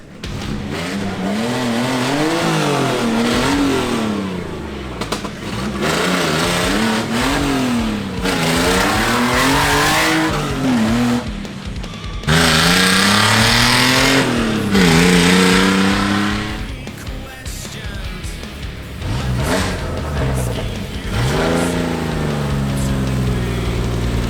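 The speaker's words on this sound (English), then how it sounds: "We all came together, and the Beetle is now out driving around." Volkswagen Beetle rat rod revs repeatedly and drives by, its engine note swooping up and down in loud surging waves with gear changes and bursts of roar, close and dominant throughout.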